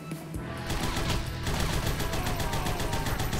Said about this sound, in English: Shotgun's fucking strong.